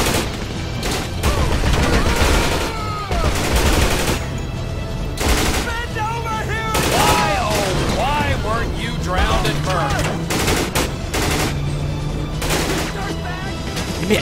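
Continuous gunfire and booms rage through a GTA 5 zombie survival battle against a Merryweather assault on a bunker, dense and loud throughout, with voices talking and shouting over it.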